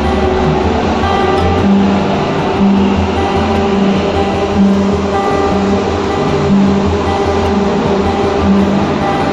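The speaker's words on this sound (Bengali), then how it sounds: "ট্রেন ছেড়ে দিয়েছে।" A Kolkata Metro train pulls out of Sealdah station with a steady, loud rumble. Low mechanical hums rise and fall under the running noise.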